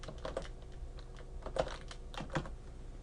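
Typing on a computer keyboard: a series of soft, irregular key clicks with a few louder taps, close and quiet, heard alone with no talk.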